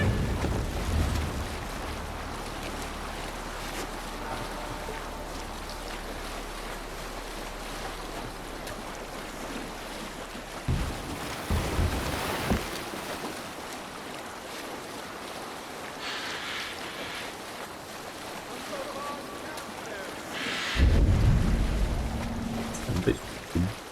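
A Viking longship sails the sea in Assassin's Creed Valhalla, with a steady rush of waves and wind against the hull throughout, a low drone early on, and voices speaking over it at points.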